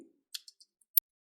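A computer mouse clicking on an OK button makes a few faint, crisp clicks spaced apart in a quiet room, with one sharper click near the end.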